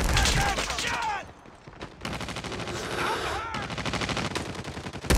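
Rapid bursts of automatic gunfire from the Call of Duty Mobile shooter game, loud and dense, crackling almost continuously with a brief lull early on, mixed with game sound effects.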